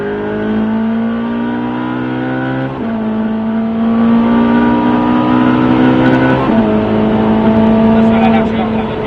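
Race car accelerating on the Albi circuit, the engine note climbing in pitch through several gear shifts, loud and close, with an instructor's voice talking over it.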